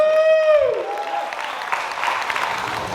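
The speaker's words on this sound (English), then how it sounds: "I need a round of applause for Anil" Applause breaks out for Anil at his 50th birthday celebration, a sustained crowd clatter that follows a brief ringing tone and carries on steadily at moderate volume.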